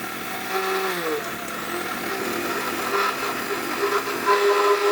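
A 1200 watt blender grinds cumin and garam masala, its motor whine sliding in pitch as it spins up, then running as a steady buzzing drone with no talk.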